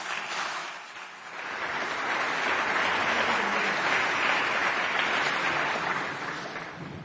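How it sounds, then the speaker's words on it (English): Warm audience applause at a European tech-policy event welcoming Executive Vice President Henna Virkkunen. Many hands clap together in a full, sustained wash that swells after the first second, holds strongly, then eases off near the end. "So please, everyone, join me in a warm applause and welcoming Executive Vice President Henna Virkkunen."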